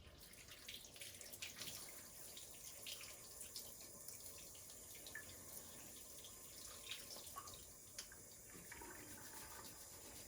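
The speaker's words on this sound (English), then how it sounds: "Next step is to wash all the buffing compound off of it." A metal ring is rinsed of buffing compound under a running tap, a faint steady gush of water splashing into a sink with small shifts as the ring moves.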